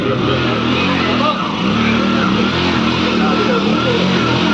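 A motorcycle engine drones steadily and loudly through a slow motorcycle race held at a Navratri festival competition in Rajapur, with a crowd and commentary voice over it.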